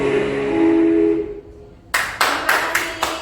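Hands clap in five sharp, evenly spaced bursts. A sustained tone fades into near silence just before the claps begin.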